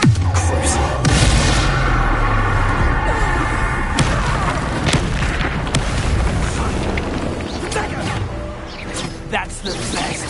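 Spell blasts from Bombarda and Confringo in Hogwarts Legacy, with loud crashing booms and explosive bursts in quick succession under game music and shouted character voices during combat.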